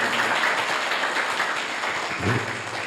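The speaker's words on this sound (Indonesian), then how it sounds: "Tepuk tangan buat anak-anak siswi." Audience applause for schoolgirls at a school Maulid Nabi celebration in Samarinda: a steady wash of many hands clapping at moderate volume throughout, slightly diffuse as if heard from within the hall.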